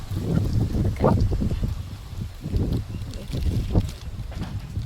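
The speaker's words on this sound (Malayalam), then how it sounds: "കാറ്റ് ഭയങ്കര കാറ്റ്" Gusty wind buffets the microphone in uneven bursts, rumbling loudly throughout with no voices.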